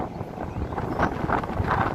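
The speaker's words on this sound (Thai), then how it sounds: "ฟ้าลมก็แรงนะครับ" Strong wind gusting across open rice fields in the rainy season, a steady rushing roar with buffeting against the microphone close by.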